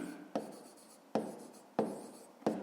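A pen scratching out numbers on paper while working a fifth-grade math exercise, four distinct short strokes at an even pace, close and quiet.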